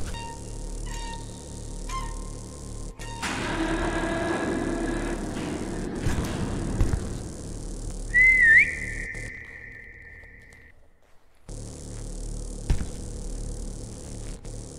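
A character whistles in the horror video game The Voidness: one clear, steady whistled note held for about two seconds, following a burst of rumbling noise, over a low droning ambience.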